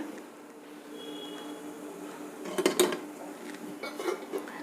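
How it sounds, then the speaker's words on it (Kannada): A few metallic clinks and clatters of stacked idli plates being set into a pot of boiling water for steaming, brief and close, over a soft background hum. "ಈಗ ಇಡ್ಲಿಗಳನ್ನು ಬೇಯಿಸೋದಕ್ಕೆ ಇಡ್ತಾ ಇದ್ದೀನಿ."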